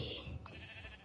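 A short Minecraft sheep bleat, one quick wavering call heard alone.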